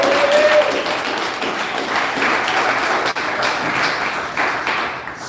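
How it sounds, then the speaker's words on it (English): A podcast audience breaks into applause, dense, steady clapping that fills the stretch at moderate loudness, with a brief tone at the start. "So let's give a round of applause."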